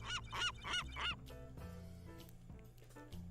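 A seagull gives three loud, squawking honk-like calls in quick succession near the start, then falls quiet while a steady tonal musical background continues.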